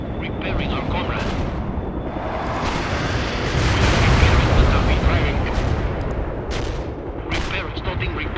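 NATO artillery barrages in the battlefield game World in Conflict pound as loud overlapping booms over a continuous heavy rumble, swelling midway with sharp impacts near the end, while radio-style unit voices talk over the bombardment.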